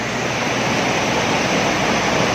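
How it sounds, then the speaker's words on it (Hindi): A waterfall sends water rushing in a dense, continuous roar, loud and even throughout, with no voices over it. "ये जो पानी है उस आबशार से आ रहा है।"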